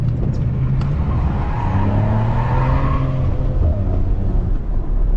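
A Maserati Ghibli S with stock exhaust drifting, its engine roaring loud and continuous with rising and falling pitch as the tires strain, heard from inside the car.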